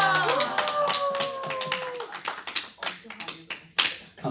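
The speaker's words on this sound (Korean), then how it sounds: "우리 한번 와 하고 박수 한번 치겠습니다" Congregation at a Bible seminar cheering, then clapping together, a ragged run of sharp hand claps that thins into scattered final claps, with a voice over the start.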